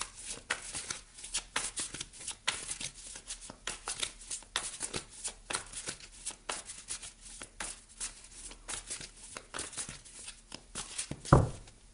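Tarot cards being shuffled by hand in steady, rapid riffling bursts for a reading, close and fairly quiet, with a sharper tap near the end and no talking.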